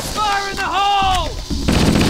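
Assault rifle fire in the shooter game Halo CE erupts as a burst of rapid shots at the end, after wavering tonal game sounds and a voice.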